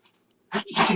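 A single sharp sneeze: a quick inhale followed by an explosive burst, close and loud.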